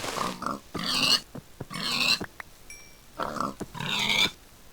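Several video game pig oinks and grunts in short bursts, fairly close and clear, with brief pauses between them and no talking.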